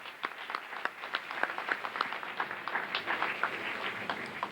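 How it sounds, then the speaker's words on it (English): A variety-show audience gives another round of applause for a general, a modest crowd clapping with distinct individual claps standing out in a fairly quick, irregular patter, moderately loud and without voices. "Another round of applause because he may not hear another one."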